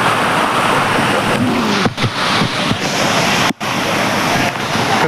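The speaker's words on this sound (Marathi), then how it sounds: "हा धबधबा केवढा उंच आहे बघा" Barki waterfall in Kolhapur during the monsoon roars as a loud, steady broadband rush of falling water, close and continuous, with only brief dips in level.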